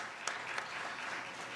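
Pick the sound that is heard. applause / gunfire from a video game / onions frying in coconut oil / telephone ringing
applause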